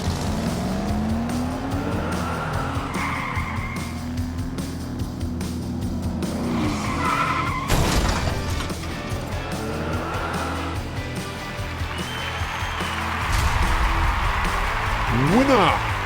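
Diecast toy cars, including a 68 Plymouth Barracuda, race down a track in a tournament heat. Rolling wheel noise and rising whines sound close, under steady commentary and race-car sound effects.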